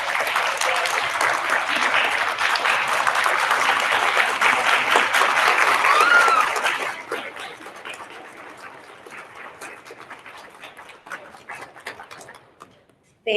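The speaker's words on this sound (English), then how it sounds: "I would love you to stand up, give them a round of applause, and that is your family" A crowd of families claps loudly and steadily at a sixth grade continuation ceremony, the dense applause holding for about seven seconds before thinning to scattered claps that trail away, with faint voices underneath.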